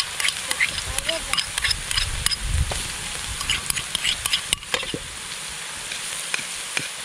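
Chili and garlic frying and bubbling in a pan outdoors in a rural farm kitchen, a steady crackling sizzle with scattered pops and stirring scrapes, fairly close, with low rumbles underneath.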